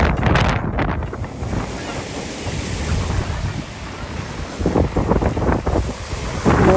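Sea waves on a beach on Rhodes, Greece, a loud continuous wash of surf with heavy wind buffeting the microphone and swells rising toward the end.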